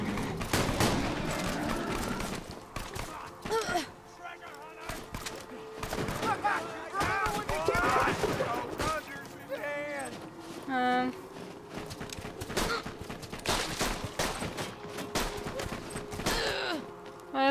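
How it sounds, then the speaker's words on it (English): Rapid video-game gunfire from Borderlands 2, with bursts of shots and crackling volleys coming in clusters over several seconds, mixed with game effects and someone talking over the action. "Where's that shooting coming from?"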